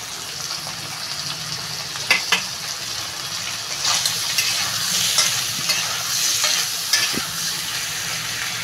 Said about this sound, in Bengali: আলুগুলোও আমি চিংড়ি মাছের সঙ্গে ভেজে নেব।